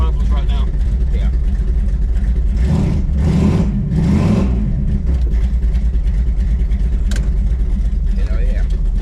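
A rebuilt 1968 Dodge Charger R/T V8 rumbles steadily through its mufflers on a cold start, with a louder swell of exhaust around the middle and people talking over the engine.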